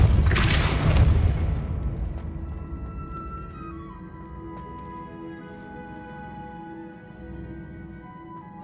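The Depulso spell is cast in Hogwarts Legacy, releasing a heavy booming blast that decays into a lingering rumble and a resonant tonal hum.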